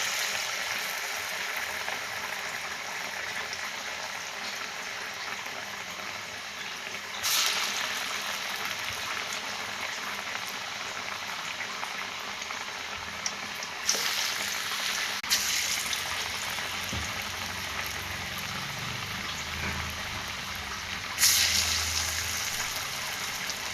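Chickpea vadas fry in hot oil, giving a steady close sizzle and bubbling throughout, with a few brief louder splashes as more batter drops in.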